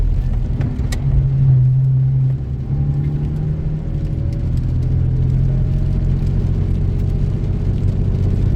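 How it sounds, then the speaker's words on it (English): A car rumbles past nearby on a mountain road in Oregon, its low engine whir swelling and then fading into a steady road drone. "That's a car."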